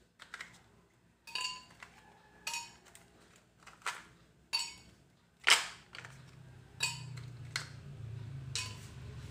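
Ice cubes dropped one by one into a container of mulberry juice, giving about eight sharp, close clinks and clatters spaced a second or so apart, with a soft low hum near the end.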